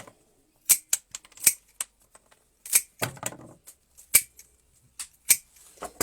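Clippers cut through twig stems of a hand-tied flower bouquet in a quick irregular series of crisp, close snips, some with a short crunch of woody stem, with quiet gaps between them and no talking.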